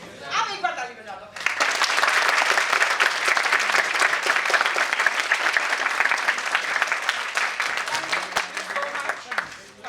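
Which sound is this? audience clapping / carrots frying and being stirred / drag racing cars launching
audience clapping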